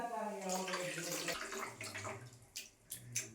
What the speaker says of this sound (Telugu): ఇప్పుడు ఇందులో మనము చింతపండు వాటర్ అయితే వేసుకోవాలి